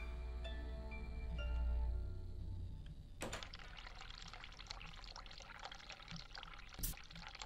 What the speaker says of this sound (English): Run hot water.